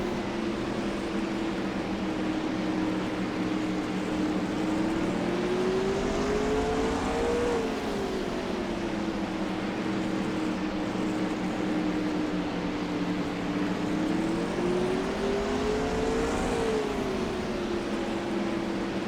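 Street stock race cars circle an oval track in a winter race, their engines droning steadily from a distance, pitch dipping and rising twice as the pack passes through the turns.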